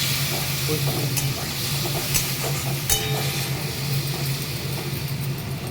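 Spices frying in a pan with coriander, cumin, chili powder, turmeric and tomato, a steady close hiss and sizzle with occasional soft scrapes of stirring.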